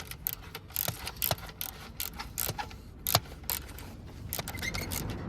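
Rapid ratcheting clicks from a torque wrench tightening the chain clamp bolt to 20 Nm on a Yamaha motorcycle, a steady run of sharp mechanical ticks close up with no talking.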